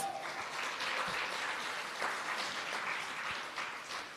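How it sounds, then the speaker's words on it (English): Audience applause for senior citizens at the launch of Senior Citizens Week, a steady, sustained round of clapping from a room full of people, lasting several seconds at moderate loudness. "I want to give our seniors a round of applause"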